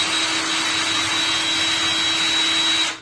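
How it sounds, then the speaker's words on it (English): A Ryobi P271 18 volt lithium cordless drill screw gun runs at speed taking out the screws of a 3 way wall switch, a steady close high whine lasting about three seconds before it stops. "I'm using my Ryobi lithium 18 volt cordless drill screw gun here. It's a P271."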